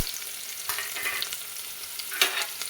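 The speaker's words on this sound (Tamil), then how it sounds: "நல்லா இதை வந்து வதக்கி விட்டுறலாம்" Onion sizzling in hot oil for a fish curry with bottle gourd and cowpeas, a steady crackling fry with a few louder stirring bursts, close and moderate in level, no voices.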